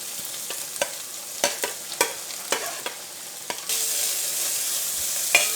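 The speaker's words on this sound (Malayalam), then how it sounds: "ഇത് നന്നായിട്ട് വഴറ്റുക നമ്മൾ." Crushed onion, ginger, garlic and curry leaves sauté in hot oil, a steady close sizzle broken by repeated scraping stirs of a spatula, growing louder and more continuous toward the end.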